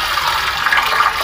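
Water from a newly installed supply runs steadily, a loud continuous rushing gush that does not let up, with no voices over it.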